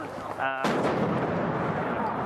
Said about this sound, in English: Firework there that just exploded